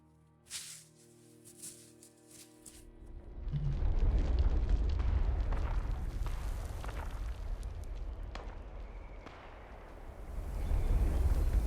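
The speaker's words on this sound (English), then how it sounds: "Damn, I hear gunfire already." Gunfire and explosive booms in the video game Fallout 76: a few sharp cracks early on, then a sustained loud rumble with scattered bursts of shots continuing to the end.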